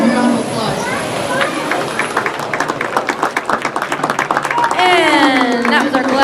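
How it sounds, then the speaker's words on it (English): Audience applause at a junior livestock show after a hog class, steady clapping from a crowd with voices and a shout or two mixed in, close and moderately loud. "Let's give them a round of applause."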